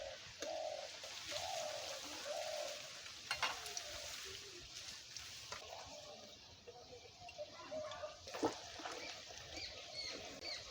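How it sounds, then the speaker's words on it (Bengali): Chicken pieces for chilli chicken fry gently in oil over low heat, giving a soft continuous sizzle with faint scraping. Quiet chirpy background sounds come and go. "হালকা আঁচে মাংসটা ভালো করে ভেজে নেব, না হলে ভেতরে কাঁচা রয়ে যেতে পারে।"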